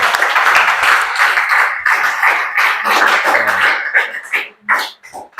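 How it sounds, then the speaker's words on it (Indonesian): Classroom clapping for a student named Amelia, a few seconds of brisk, fairly close hand claps from a small group, thinning out at the end. "Tepuk tangan dulu untuk Amelia."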